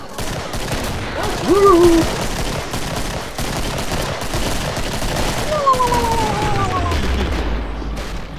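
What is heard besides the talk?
gunfire in Killing Floor video game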